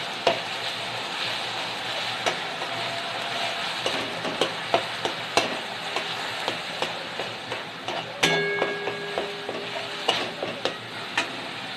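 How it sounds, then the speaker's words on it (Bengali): Ground prawn paste fries in oil in a pan, giving a steady close sizzle with regular scraping strokes of a stirring spoon that repeat roughly every half second. "দিয়ে এবার এটাকে লাল করে একটু ভেজে নেব।"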